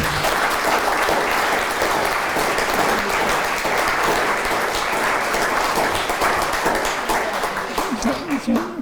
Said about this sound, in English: I think we should give Richard another round of applause